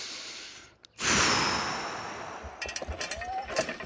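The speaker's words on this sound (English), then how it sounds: "I'm also making a conscientious effort to breathe deeply" A long, deep breath drawn in and slowly released close to the microphone near a team of horses being trained to a sickle bar mower, followed by soft rustling and faint clinks.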